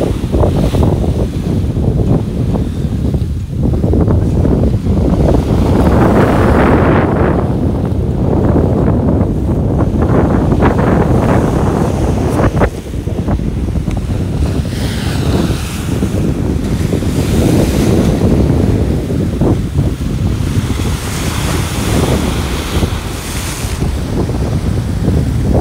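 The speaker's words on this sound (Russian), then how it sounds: "Очень волны сильные." Strong sea waves surge and crash against a pontoon in the Egyptian resort of Stella di Mare, a loud, continuous roar with swelling bursts and heavy wind buffeting the microphone, no voices heard.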